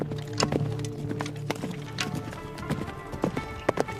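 Hooves of a horse ridden by a mounted archer clop in an uneven, fairly close rhythm, with a few sharper knocks and a faint low hum underneath.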